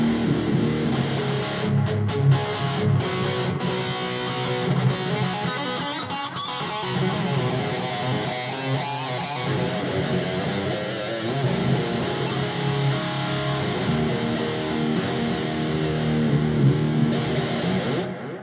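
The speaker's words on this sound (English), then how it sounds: "That distortion is coming from the Behringer Ultra Metal at a halfway gain" Heavily distorted electric guitar through a Behringer Ultra Metal pedal at half gain into a Roland JC-40 combo amp, a thick, gritty, bass-heavy tone sustained throughout without vocals.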